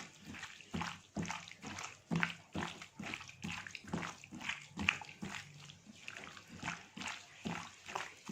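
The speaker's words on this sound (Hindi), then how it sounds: "हाथ से मिक्स करना ज़्यादा बेहतर होता है ताकि अच्छे से मिक्स हो जाए।" Chicken being mixed by hand in a marinade of soy sauce and chili sauce, giving steady wet squelching and sloshing pulses in a repeated rhythm, close and fairly quiet, with no talk.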